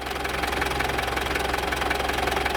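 A Mitsubishi Pajero engine idles with the hood open while its fan belts are checked, giving a steady, close mechanical hum with a fast rhythmic ticking and light whirring, and no voices over it.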